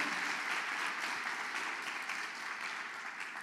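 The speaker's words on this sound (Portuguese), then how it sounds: "Pode aplaudir se for para Ele." Congregation applauding inside a church during a sermon, a dense, steady wash of clapping that holds at an even level from start to finish, with no speech over it.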